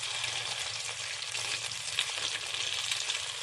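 Leftover egg frying in hot cooking oil, a steady close sizzle with continuous crackling spatter throughout, no voices.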